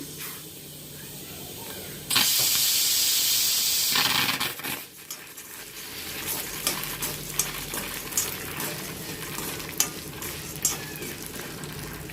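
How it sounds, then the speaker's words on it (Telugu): Urad dal lentils dry roasting in a pan while being stirred, a loud burst of sizzling hiss for a couple of seconds, then steady scraping and stirring with soft clatter close by. "పప్పులు సగం పైన వేగినాయండి"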